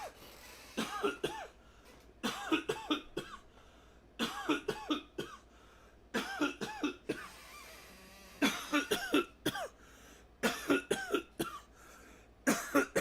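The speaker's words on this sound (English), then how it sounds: "I gotta start coughing into my left hand." Repeated bursts of coughing come in clustered fits across the whole stretch, close and fairly loud with brief quiet gaps between bouts and some throat clearing, with no talk over it.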